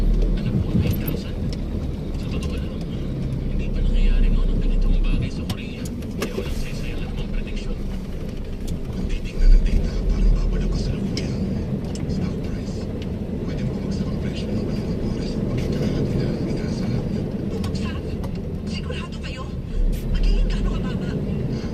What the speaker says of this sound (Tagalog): Traffic, expressway na nga eh.